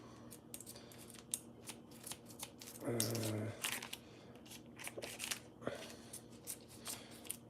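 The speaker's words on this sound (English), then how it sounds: "scissors." Kitchen scissors snip while shrimp are prepared for cooking, several quick crisp cuts spaced irregularly, one longer crunchy cutting stretch, close and fairly quiet with light kitchen handling around them.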